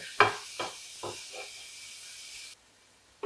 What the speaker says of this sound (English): Keep frying until the leaves are tender.